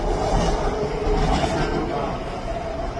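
A westbound train rolls past nearby with a continuous broad rumble and hiss and faint rhythmic clatter, steady throughout the short stretch.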